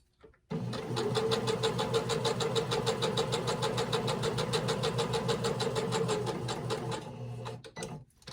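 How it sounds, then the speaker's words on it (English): A sewing machine stitches a fabric napkin ring in one continuous run of fast, even needle strokes, close and clear, stopping abruptly near the end with a few faint handling clicks. "Needle down, lift and turn, and then I can continue sewing."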